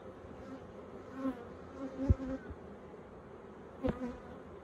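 Soft, steady buzzing of many honey bees at an open Flow Hive 2 fills the background, with a few louder thumps and bumps from handling frames nearby.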